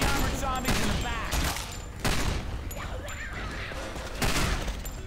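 Gunfire rakes through a Left 4 Dead 2 zombie fight, dense overlapping shots and bursts running throughout, with sharp louder blasts near the start, middle and end, voices calling out beneath the chaos.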